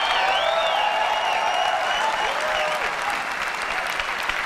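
Loud, dense applause and cheering from a large crowd at the Apple iPhone unveiling, sustained and steady across the whole stretch with no pauses.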